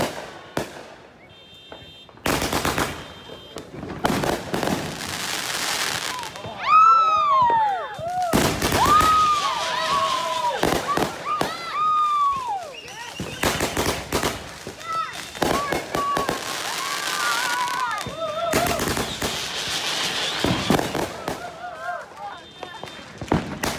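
A 36-shot Gorilla Box firework cake going off outdoors, a rapid run of loud bursts and crackling pops with whistling rising tails between them, spread over about twenty seconds, with people talking and shouting over the shots.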